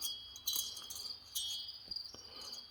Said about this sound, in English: Can you hear those crickets?